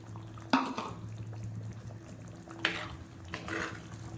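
Boiled chickpeas drop into a bubbling masala gravy for kadala curry, a few soft splashing plops and spoon knocks over a low steady simmer, quiet and close.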